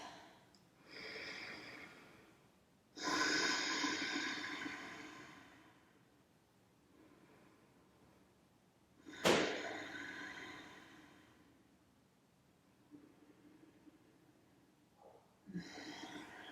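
Slow, deep breaths during a yoga session, a few drawn-out inhales and exhales separated by quiet pauses, close and fairly soft, with one sharper audible breath midway through.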